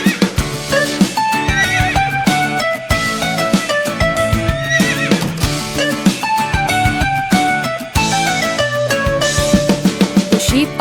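Horse neighs and whinnies punctuate a bouncy children's song about animals on a bus, set over constant upbeat instrumental music with clip-clop rhythm, likely imitated by a voice rather than a real horse.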